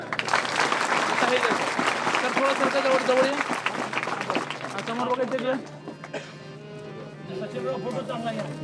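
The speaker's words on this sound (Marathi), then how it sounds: "एकदा तुमच्या सरांसाठी आणि आमच्या सरांसाठी टाळ्या." Applause for the teachers at a school reunion: a crowd claps steadily under a voice talking, and the clapping thins out partway through.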